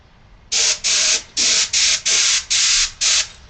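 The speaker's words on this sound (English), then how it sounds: "So I'll go through there and over atomize it and sort of spray it dry so I can get a matte finish." A spray gun lays primer on a fuselage plug in seven loud, close bursts of airy hiss with brief pauses between, sprayed dry and over-atomized for a matte coat.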